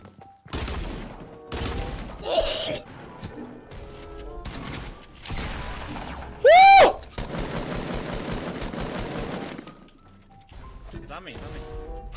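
Pistol fire in the video game Fortnite Battle Royale: loud bursts of rapid shots, broken by a sharp rising electronic tone, with a long sustained volley near the middle and voices talking in the gaps.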